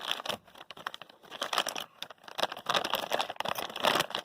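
Sealed plastic bulk bag of 9mm ammunition with a desiccant pack being opened and handled, close-up crinkling and tearing in irregular bursts, heard alone.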